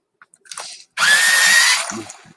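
A coloring pencil being sharpened in a small electric sharpener, with a few light taps before a loud, steady grinding whir that runs about a second and then fades with small rattles.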